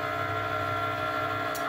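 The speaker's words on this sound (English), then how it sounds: "we're gonna let the Cricut Maker draw it completely out" A Cricut Maker cutting machine draws with a black pen while making custom labels, giving a steady, continuous mechanical whir with layered tonal motor hum at close range, ending with a short higher rattle near the finish.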